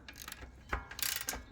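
A ratchet wrench works a 15mm bolt off the exhaust of a KP Mini 150 RS EFI, with quick metallic clicking pawl strokes in short bursts, close and fairly quiet.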